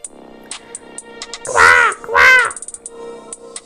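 Two loud, harsh crow caws ring out close by in quick succession, with faint tapping and background music around them.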